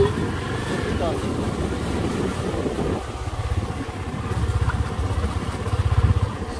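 A Honda CB Twister 250 motorcycle rides a rough trail in the Serra do Maia hills, its engine a steady, pulsing rumble up close, with muffled voices mixed in.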